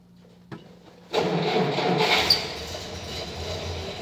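A 1954 Willys Jeep starts cold with the choke pulled out: a quiet lead-in and a single click, then the engine abruptly catches and roars into a rough, loud idle that settles down, heard without talk.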